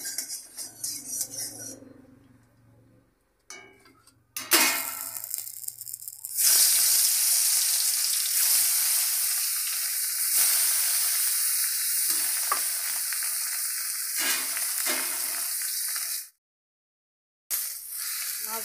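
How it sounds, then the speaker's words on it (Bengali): Bhetki fish frying in smoking-hot oil, starting with clinks and brief sizzles before a loud, continuous close crackle that runs unbroken for over ten seconds, then a short pause and more sizzling. "এবার মাছগুলো আমি ভেজে নেব।"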